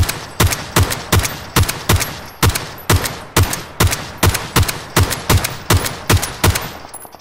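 Rapid single gunshots from a shooter video game, a firefight against a team on a mountain, crack out loud and close in a steady rhythm of roughly twenty evenly spaced shots, with no talking.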